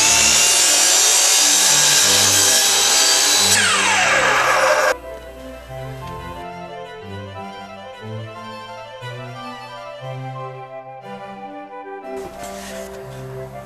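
Power saw making scoring cuts in wood for a mortise, a loud harsh cutting roar for about five seconds that stops abruptly, followed by quieter tonal music-like ringing, no talking.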